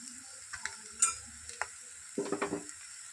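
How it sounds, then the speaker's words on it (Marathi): Homemade Malvani masala frying in oil in a pan while being stirred, with soft sizzling under scattered scrapes and clinks of the spoon against the pan, close and quiet. "यालाही आपण तेल सुटेपर्यंत परतवत राहू."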